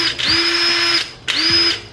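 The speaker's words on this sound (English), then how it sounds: "Sit it on there, and then just bolt it down." A cordless power drill drives a lug nut onto a rear stud of a 2016 Subaru BRZ, with two close, loud whirring bursts, each spinning up for about a second, separated by a short pause.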